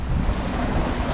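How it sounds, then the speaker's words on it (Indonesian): Large sea waves and strong gusting wind at a fishing spot by the TPI Tasik Agung pier in Kupang, Central Java, Indonesia: a steady, loud roar of surf with wind buffeting the microphone, continuous throughout with no voices. "Kondisi spot ombak lumayan besar, tiupan angin cukup kencang,"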